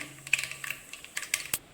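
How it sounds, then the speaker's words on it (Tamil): Mustard seeds spluttering in hot oil for raw mango thokku, a rapid irregular run of sharp crackles and pops, close and fairly crisp, with no talk over them. "நல்லா பொரியுது பாருங்கள் கடுகு சவுண்டு கேட்குது பாருங்கள்"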